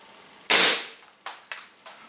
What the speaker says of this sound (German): Ich entsichere wieder und schieße.